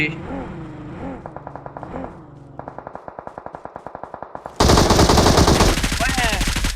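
Automatic gunfire in the mobile battle-royale game PUBG Mobile shooting out a vehicle's tyres: rapid even bursts of shots, then a louder blast of noise, with a voice talking over part of it.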